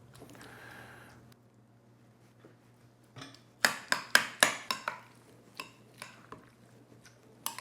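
A spoon scoops cross-sliced avocado flesh from its skin, giving a quick series of sharp scraping clicks against the peel and bowl, close and crisp after a brief quiet rustle.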